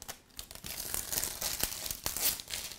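Stiff old plastic packaging crinkles and crackles up close as it is pried open during the unboxing of a new, never-opened Leica M6 camera, a dense stream of sharp rustles with no speech.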